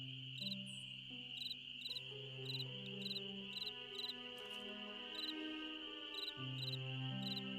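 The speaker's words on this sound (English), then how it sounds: "Something is chirping." An insect in the Nancy Drew game Ghost Dogs of Moon Lake chirps in regular, evenly spaced pulses, like a cricket, against soft sustained background music. The chirps are moderately close and rhythmic.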